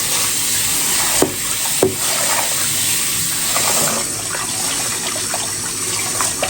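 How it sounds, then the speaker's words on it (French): Rice is washed by hand in water in a home kitchen, a continuous close sloshing and swishing with a few sharp knocks and clinks against the pot, no voices. "Je lave le riz."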